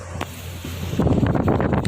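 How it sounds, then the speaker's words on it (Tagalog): Strong super typhoon wind buffets the microphone in rough, rushing gusts that grow louder halfway through, with a faint low hum underneath. "Tungod sa kusog na hangin."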